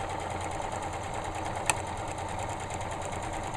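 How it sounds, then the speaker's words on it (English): Sewing machine stitching a 5/8-inch seam on light-colored fabric for shorts, a quiet steady mechanical whir with fast even needle rhythm and one brief sharp click partway through. "I'm sewing with a lighter color fabric just so you could see my stitch"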